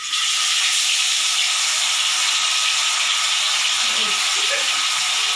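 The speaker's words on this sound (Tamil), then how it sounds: "இதை இப்போ ஃப்ரை பண்ணி எடுத்துடலாம்." Masala-marinated fish frying in hot oil gives off a loud, dense, unbroken sizzle and hiss, held steady at close range with no talk over it.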